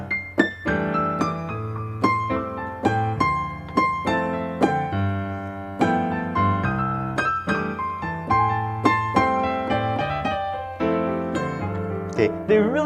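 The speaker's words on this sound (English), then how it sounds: "Here's the sound of triplets." A solo piano plays a steady run of triplet rhythms, with bright, clear notes and chords rippling evenly in groups of three, close and alone with no talking.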